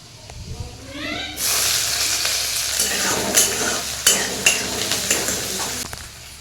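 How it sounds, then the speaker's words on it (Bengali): Chopped garlic hitting hot oil in a pan, a sudden loud sizzle bursting in after a quieter start, then continuing with spatula scrapes and metallic clinks against the pan. "এই যে তেল গরম বসিয়ে দিয়েছি, এটা দিয়ে দিই এবার রসুন কুচি।"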